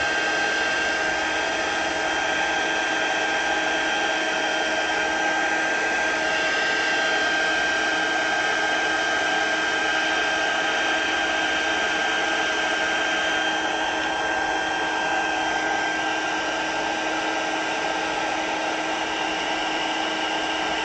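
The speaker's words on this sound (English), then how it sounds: "I just love heat embossing." Steady loud blowing whir of a heat gun used for heat embossing in a papercraft project, running continuously at even pitch with no pauses or talk.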